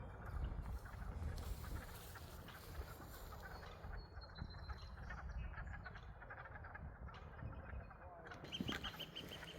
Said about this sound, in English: Listen to how happy the birds are now that spring is here.